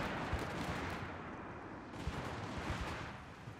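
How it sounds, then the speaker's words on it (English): Sustained battlefield gunfire in Company of Heroes 3, with a machine gun laying down suppressing fire amid dense, continuous rattling shots and distant booms throughout. "Got a machine gun just staying on suppression."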